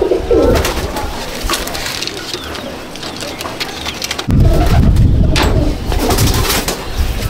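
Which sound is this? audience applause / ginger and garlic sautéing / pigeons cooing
pigeons cooing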